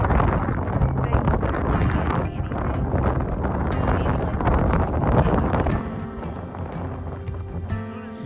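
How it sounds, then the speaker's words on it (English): Strong wind roaring across the mic high on Acatenango volcano in Guatemala at night, a steady loud buffeting rush that masks everything else throughout. "you literally can't hear anything just with like the wind going by"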